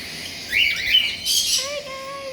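Several cockatiels chirp and call in an aviary, a mix of bright tweets and squawky calls close by, with a couple of sustained whistle-like notes near the end.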